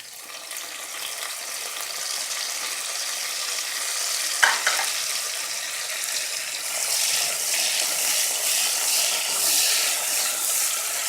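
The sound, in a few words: tadka sizzling in ghee with coriander added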